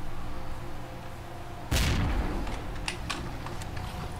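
A single heavy grenade blast from the shooter game S.T.A.L.K.E.R.: Clear Sky bursts out suddenly after a quiet stretch of ambient hum, with a booming low rumble that decays over a couple of seconds, followed by scattered sharp crackles.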